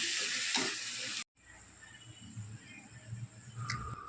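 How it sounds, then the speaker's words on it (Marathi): Onion, coconut and tomato paste sizzle in a pan for chana masala, a close, steady frying hiss with soft stirring scrapes, cut briefly by a short silence partway through. "मी खोबरं आणि टोमॅटोची पेस्ट इथं टाकून घेतलेली आहे। हे सगळं आपल्याला व्यवस्थित परतून घ्यायचं आहे।"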